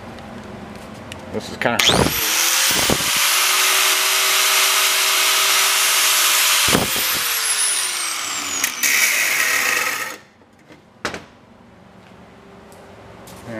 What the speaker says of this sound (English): And I'll just turn on a die grinder.